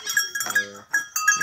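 Goats and sheep on a farm being called into their pen, several loud, close bleats in quick succession, some harmonic and wavering, with faint livestock noise between calls.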